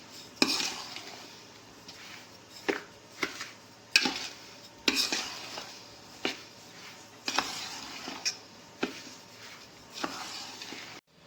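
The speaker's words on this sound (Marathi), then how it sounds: "हे सर्व जिन्नस आता आपण या पिठाबरोबर मिक्स करून घेऊ." Spices and salt are mixed by hand into flour for sundried sandge, giving a run of soft scraping and stirring strokes in an irregular rhythm, each a short burst against a quiet kitchen background.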